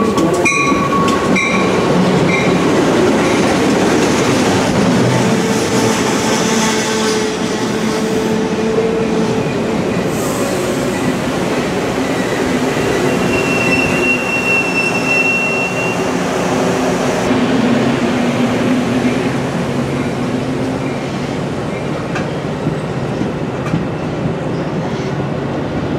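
BNSF passenger train arriving at a station, a loud, steady rumble of railcars rolling past up close, with clickety-clack and a faint high squeal over the full duration.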